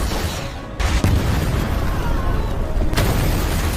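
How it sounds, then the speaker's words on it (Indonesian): An RPG strike blows up an escort car in an action movie scene, a loud, sustained roaring blast with dense rumbling debris that carries on for several seconds. "sebuah serangan RPG sukses membuat satu mobil pengawal Donovan meledak"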